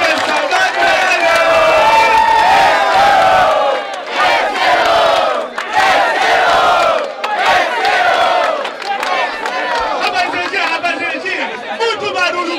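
A rap battle crowd at a Brazilian freestyle event roars, cheers and shouts loudly and continuously, with voices yelling together over dense chatter before the noise eases slightly toward the end.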